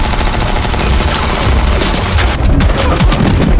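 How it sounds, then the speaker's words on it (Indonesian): Machine gun fire in an action film, a dense continuous volley of loud rapid shots that blurs into a sustained roar, with heavier booming impacts toward the end. "langsung memberondongnya dengan peluru"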